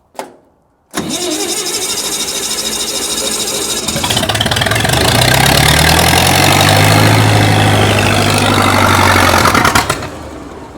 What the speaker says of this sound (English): Machine runs.